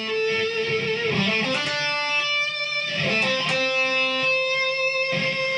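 Shimmering electric guitar harmonics ring out and waver with a gentle vibrato, several notes picked in turn, played alone without talking.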